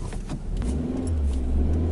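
A Nissan Primera pulls away after a stop, its engine note rising steadily and loud from close inside the car, with a low steady hum throughout and no talking.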